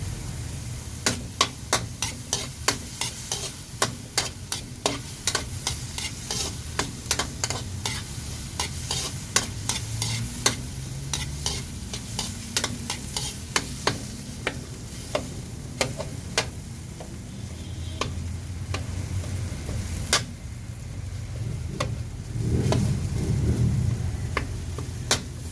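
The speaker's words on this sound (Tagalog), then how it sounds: "Pipisain nyo yung kamatis para yung katas niya ilalabas siya." Tomatoes sizzle while being sautéed and crushed in a pan for shrimp sinigang, with a steady frying hiss and repeated sharp scraping clicks from the spoon; a low rumble swells near the end.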